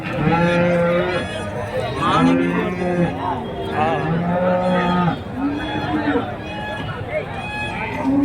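Cattle lowing repeatedly at a busy cattle market in Karimangalam, Dharmapuri district, with several loud, drawn-out moos overlapping one another and people talking throughout.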